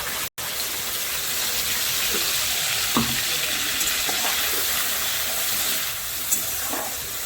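Potatoes and broccoli fry with a ground spice paste of cumin, green chili, tomato and ginger in a pan, a constant close hiss with scattered light stirring clicks and pops.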